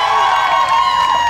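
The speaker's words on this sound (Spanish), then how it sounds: "A ver, el aplauso para la gallinita de Dolores" Loud crowd cheering with children shouting and whooping at a kids' show. The noise is a continuous mass of voices with only light clapping underneath.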